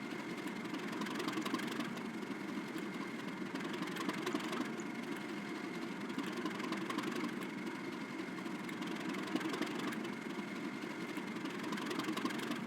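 An engine ticks over at idle, giving a steady, even rumble with a faint rhythmic knock that runs unchanged from start to finish.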